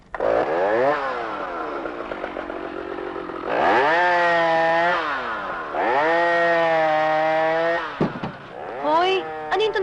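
A souped-up sports car engine starts in a Filipino comedy film and revs hard in three rising, rasping surges, with a short spoken interjection near the end.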